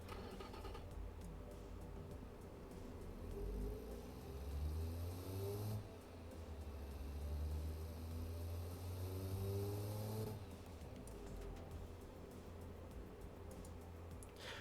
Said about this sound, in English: let's actually listen to the engine, see how depressing it sounds